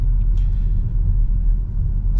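A Volvo XC40 Recharge electric car speeds up, its low steady road rumble and faint whine filling the cabin without talk.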